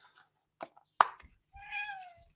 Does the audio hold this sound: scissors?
no